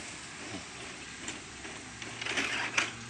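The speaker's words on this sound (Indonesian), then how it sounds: "kita mengeprint seperti ini" A home printer runs while printing book pages, giving a soft continuous mechanical whir with faint rhythmic ticks and a slightly louder clatter near the end.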